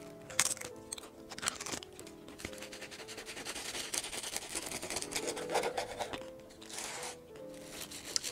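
Crisp, flaky buttery pastry crackles and crunches continuously as it is broken and handled up close, with dense crinkling bursts throughout and no talking.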